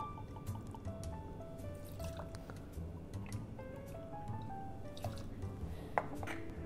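Ford's gin is poured into a measure for a cocktail: a soft liquid trickle with rising gurgling pitch and a few light drips, close and fairly quiet with no talking.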